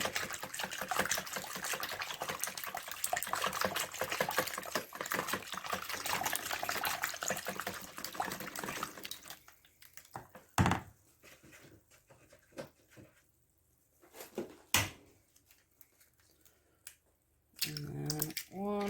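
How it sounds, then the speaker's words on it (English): Ingredients are whisked in a bowl with a fast, steady scraping and clatter for about nine seconds, then a few scattered knocks and taps before a brief return of whisking at the end. "whisk them in, make a mess while I'm at it."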